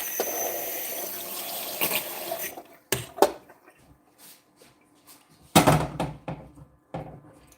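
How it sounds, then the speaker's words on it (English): Water from a tap running into a cooking pot at a home stove, a steady broadband pour for a few seconds, then sharp clunks of the pot being handled and set down, with a second short splash near the end. "I'm just putting a little bit of water in here."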